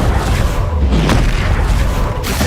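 A Confringo spell blast fired in the video game Hogwarts Legacy, a loud booming burst amid sustained, dense battle noise without pause.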